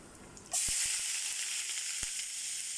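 Chopped onions drop into hot oil and start sizzling loudly all at once, a steady close frying hiss broken by a few soft knocks from a utensil.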